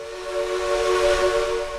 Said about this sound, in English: This is the sound of a 1920s Heisler No. 6 locomotive known here as the Durban Rocket.